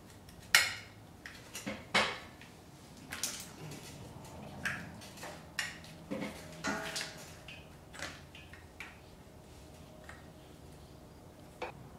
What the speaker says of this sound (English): let's go ahead and start unscrewing it